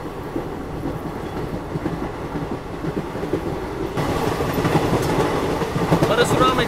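A Himsagar Express passenger train runs along rails in Kerala on the Ernakulam line, with a steady rumbling roll and rhythmic clatter of wheels that grows louder and fuller partway through.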